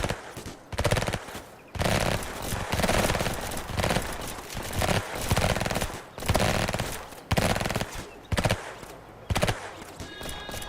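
Dense gunfire from a SWAT shootout in the Emergency video game, rapid automatic bursts rattling almost continuously for the whole stretch, loud and close with only brief gaps between volleys.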